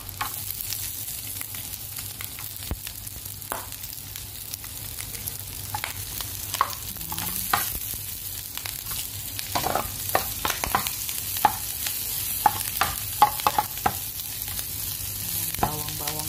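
Garlic crackles and sizzles in hot cooking oil, a dense close hiss dotted with sharp pops that grow more frequent toward the end, with occasional utensil clinks and no talking.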